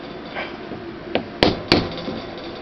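Pins hammered through a knife handle in a vise: several sharp metal-on-metal strikes, two loud close blows followed by a lighter tap, with quiet workshop room tone between.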